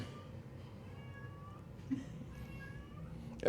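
A talkative cat in a farmhouse meows, a few fairly faint drawn-out calls over a quiet room, with a brief sharper sound at the very end.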